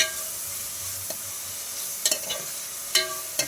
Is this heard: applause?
no